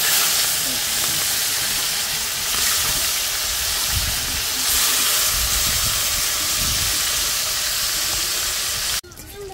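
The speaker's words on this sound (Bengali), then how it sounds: "তো আমি পাঙাশ মাছ রান্না করার জন্য এখানে হলো বেগুন ভাজা নিতেছি।" Eggplant slices fry in a pan with a continuous loud steamy hiss and crackle, bubbling unevenly before cutting off abruptly near the end.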